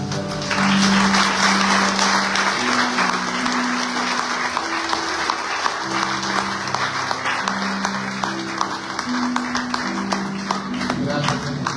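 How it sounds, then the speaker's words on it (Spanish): A church congregation applauding during a Sunday service, a dense sustained wash of many hands clapping at steady volume for the whole stretch, with a held musical tone underneath. "Denle un aplauso."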